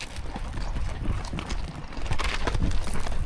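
Horses' hooves clop unevenly on hard ground as they walk down a steep hill, close by, with rustling and shuffling noise throughout.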